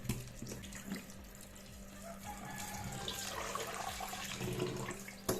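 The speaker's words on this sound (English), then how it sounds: "I rinse off as much of the salt as I can with cold water before I simmer it." Cold tap water runs steadily into a sink to rinse the salt off saltfish, a continuous close splashing stream with small clinks and bumps mixed in.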